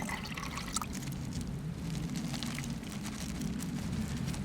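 Water from a small supply is poured for tea at an outdoor campsite, a soft continuous trickling, splashing stream heard close up over a low background rumble.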